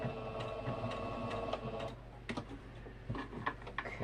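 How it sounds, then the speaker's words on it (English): A sewing machine back-stitches fabric, giving a rapid mechanical rattle that runs steadily for about two seconds before breaking into shorter, uneven bursts and clicks, close and fairly quiet. "It'd be better to back stitch it, because it's going to come loose if I don't."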